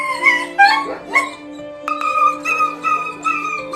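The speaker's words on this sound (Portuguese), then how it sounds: "Um policial ouviu os gritos de um cachorro infeliz que acidentalmente se enroscou em algum tecido" A distressed dog tangled in fabric yelps, whimpers and cries out in a series of high, wavering howls, loud and close, with short gaps between the cries.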